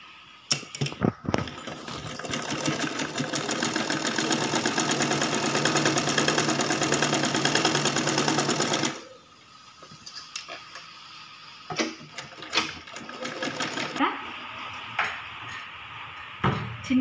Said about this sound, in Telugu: ఈ విధంగా ఉల్టా తీసుకొని ఇలా స్టిచ్ చేసుకోవాలి.